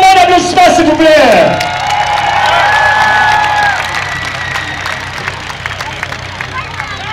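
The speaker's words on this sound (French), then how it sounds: "J'aimerais qu'on leur donne une bonne main d'applaudissement, s'il vous plaît." Crowd at a demolition derby in St-Victor, cheering and applauding loudly at first, then settling into a steady outdoor hubbub with scattered claps and shouts.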